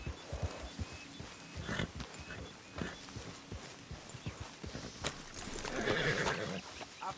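In the video game Red Dead Redemption 2, horses snort and whinny amid a steady patter of hooves clopping, fairly close, with a louder neigh swelling near the end.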